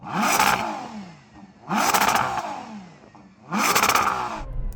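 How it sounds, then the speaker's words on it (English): A Ferrari Purosangue SUV's V12 engine revs hard three times in succession, each burst climbing sharply and then dropping away to a low idle between pulls. "I can't believe how quickly this engine revs up for an SUV's engine"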